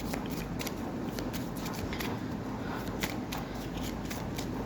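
A deck of tarot cards shuffled and drawn close by, steady papery flicks and riffles over a constant low background hum, with no talking.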